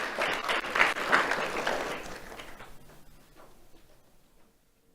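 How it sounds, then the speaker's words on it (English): An audience at a December 2024 awards ceremony gives a round of applause, a dense burst of clapping that swells briefly and then fades away to quiet over a few seconds, with no talk over it. "Let's have a round of applause for Jaslyn Paul Perez."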